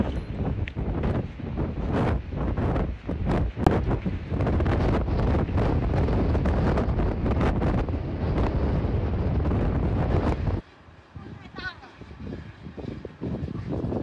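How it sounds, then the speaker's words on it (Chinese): Strong wind roars through a rocky mountain gorge, a loud, close, buffeting rush that runs for about ten seconds, then drops abruptly to lighter gusts and a faint voice. "风太大了"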